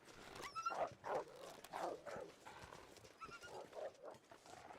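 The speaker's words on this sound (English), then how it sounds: "That wasn't just a growl, but then I pointed and they barked off." Wolves in a survival video game barking and growling, a run of sharp yelping barks and snarls at mid distance, several bursts spread unevenly over a few seconds with no talking.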